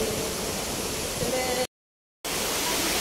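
Steady rushing splash of a park water fountain cascading like a small waterfall in Abu Dhabi, continuous and fairly near, with a brief dropout of silence partway through.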